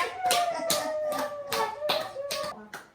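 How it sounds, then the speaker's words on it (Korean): A few people clap hands in rhythm, about seven crisp claps spaced roughly half a second apart, close and fairly loud, with faint voices in the background. "박수 박수"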